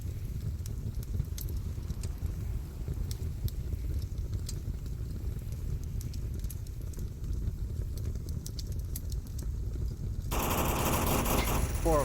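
Gunfire in the VR shooter Onward: rapid automatic bursts crackle steadily through the scene, with a denser, louder volley of shots near the end.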